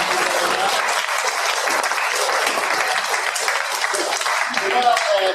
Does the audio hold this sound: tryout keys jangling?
no